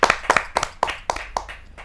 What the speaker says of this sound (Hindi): जोरदार तालियों के साथ अरुण साहिबाबादी जी का स्वागत